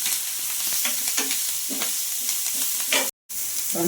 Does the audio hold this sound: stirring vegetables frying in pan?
yes